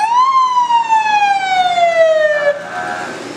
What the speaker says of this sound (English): The sound of fire engines leaving the station.